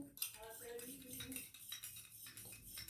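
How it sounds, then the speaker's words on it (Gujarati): A spoon stirs a spoonful of sugar into a glass of water for lemon sharbat, giving close, fairly loud clinks and scraping against the glass, with some background voice underneath. "તો હવે આપણે 1 ગ્લાસ પાણીમાં 1 ચમચી ખાંડ અંદર નાખીને હલાવીશું"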